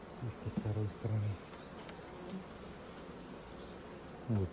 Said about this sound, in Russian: Вот пчелы.